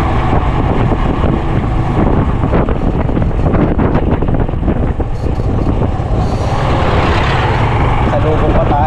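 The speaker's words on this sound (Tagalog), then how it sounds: "Sa amin malakas ang hangin dahil open." Strong wind buffets the microphone outdoors in an open area of a market district during a typhoon-season day, a loud continuous low rumble with gusts, while people talk nearby.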